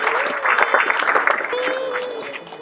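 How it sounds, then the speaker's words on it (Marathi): A crowd applauds at the inauguration of a multi-speciality hospital in Kinwat, producing dense, loud clapping that continues throughout, with a sustained tone and voices mixed in. "एकदा त्यांच्यासाठी टाळ्या वाजवा."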